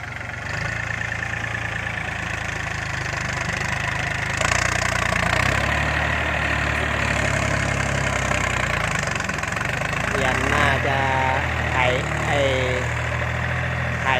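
A three-cylinder diesel tractor engine idles steadily with a low, knocking rumble throughout, while someone talks over it near the end.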